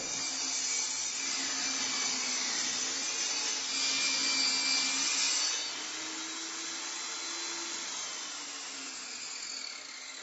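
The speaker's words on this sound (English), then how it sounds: "I'm going to make the vertical cut here, and then this will be 1/2 inch in thickness." A power saw makes a vertical rip cut in wood to form a rabbet, giving a steady, loud high-pitched whine that holds for several seconds and then eases slightly as the cut finishes.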